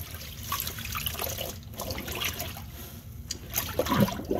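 Tap water runs and trickles steadily into a sink while a fabric chest binder is scrubbed and washed by hand, a soft continuous splashing with faint rustles close by.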